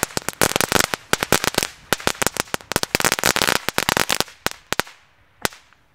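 Firecrackers going off in rapid, irregular bursts of sharp cracks and pops during a holiday Advent special, dense at first then thinning to a few scattered loud bangs.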